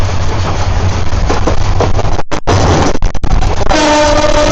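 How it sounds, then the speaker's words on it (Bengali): A lone railway locomotive without carriages rushes past on a double-track line with a loud roar and wind buffeting, then sounds a sustained horn near the end. "এটা ট্রেন ছিল না শুধু ইঞ্জিন ইঞ্জিন ছিল"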